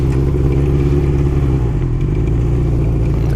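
A 1981 Honda CB900F four-cylinder motorcycle runs while being ridden, a loud, steady low engine drone with a slight dip in pitch midway, heard up close and alone.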